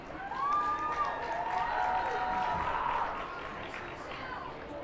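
Crowd at a high school football game cheers and applauds the cheer team, a moderate roar of voices and clapping with whistle-like shouts, fading somewhat toward the end.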